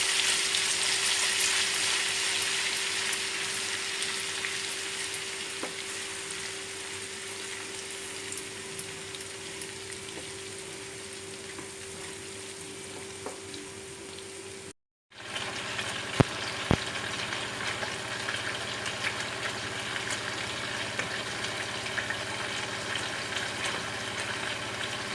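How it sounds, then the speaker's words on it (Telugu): Ginger garlic paste fries in hot oil for an Andhra prawn pickle, giving a steady, close, crackling sizzle that runs continuously with a brief break partway through and no talking. "అల్లం వెల్లుల్లిపాయ పేస్ట్ వేయాలి. వేసి వేయించాలి రెడ్ కలర్ వచ్చే వరకు కూడా."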